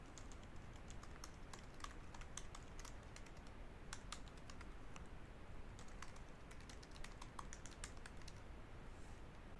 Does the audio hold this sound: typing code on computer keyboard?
yes